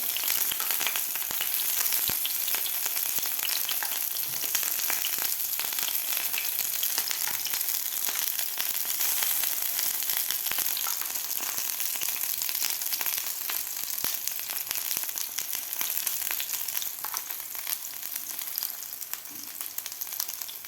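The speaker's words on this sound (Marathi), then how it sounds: "अशा प्रकारे आता 1 मिनिटभर आपल्याला खालची बाजू फ्राय करून घ्यायची आहे." Egg mixture with capsicum rings fries in a pan over medium heat, giving a steady, close, even sizzle that crackles without pause and with no talking.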